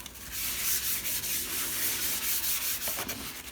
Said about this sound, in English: wipe up your glue.